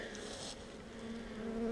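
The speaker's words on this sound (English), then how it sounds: "The bees are all going to go right in the middle here" Honey bees from a nuc being installed into a green hive hum in a dense, steady buzz close at hand, a continuous drone with no voices.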